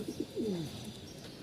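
Pigeons kept by a breeder cooing close by, a couple of short soft coos then a longer rolling one, over a steady hiss of background noise.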